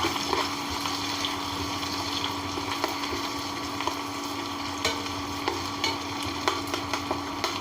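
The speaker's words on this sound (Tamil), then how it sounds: "இந்த வெங்காயத்தை வந்து நல்லா முருகலாகிற வரைக்கும் நம்ம வதக்கி விட்டுக்கிடுவோம்" Onions sautéing in oil for a village-style chicken curry, a steady close sizzle with light intermittent stirring clicks throughout.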